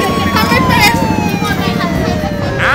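An ambulance siren wails steadily, its tone slowly gliding downward as the vehicle approaches, sounding fairly close over dense background crowd noise and voices at a roadside emergency.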